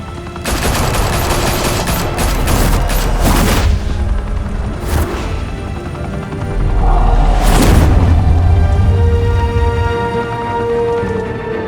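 A loud, sustained burst of rapid automatic gunfire from a shootout in Batman: The Telltale Series, with booming impacts and heavy blasts layered through a dense, continuous fusillade.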